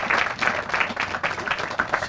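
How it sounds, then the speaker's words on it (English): Brief audience applause at a public works groundbreaking ceremony: a short, uneven patter of clapping from a modest outdoor crowd, fairly close, with no speech over it. "Please give them a round of applause."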